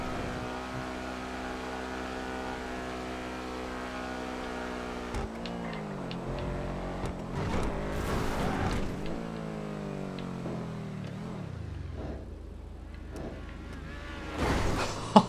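A car driving in GTA 5 hums with a steady engine drone that shifts pitch as it accelerates and slows, with a few thumps and bumps late on and no voices over it.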